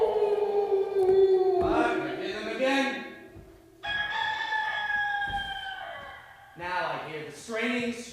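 A singing voice imitates a rooster's crow in a staged song, giving several drawn-out, rising cock-a-doodle-doo calls separated by short pauses. The calls are close and fairly loud, with no other sound behind them.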